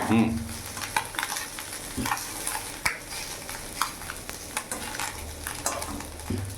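Puti fish frying in a pan, a soft ongoing sizzle broken by scattered clicks and scrapes of a utensil stirring and turning the fish, fairly quiet and close.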